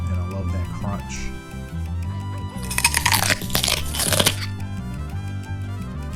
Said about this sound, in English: And then we move on to the tomato. I'm going to slice them up, chop them up.